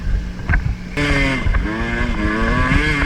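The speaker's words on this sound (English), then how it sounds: "We got Luke's KTM Enduro." A KTM enduro motorcycle being ridden: the engine note jumps up sharply about a third of the way through, then holds a loud, close, wavering drone with rising and falling revs, mixed with wind buffeting.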